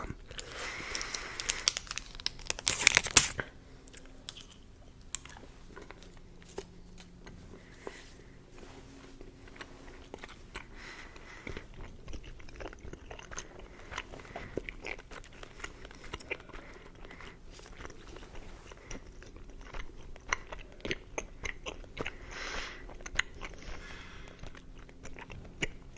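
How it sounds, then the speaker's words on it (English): Close, steady chewing of Warheads gum with wet crunching, smacking and crinkling bursts that are louder near the start, heard alone with no talk. "I'm chewing on like half of a piece of gum"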